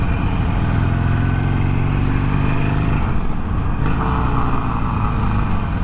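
An orange motorcycle's engine runs steadily and loudly up close, a constant mid-pitched rumble that holds for several seconds with no talking.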